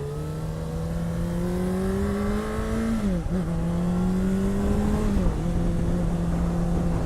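A 2017 Honda CBR600RR motorcycle engine hums steadily and close, then dips and rises in pitch twice as the rider rev-matches through gear changes, with no talk.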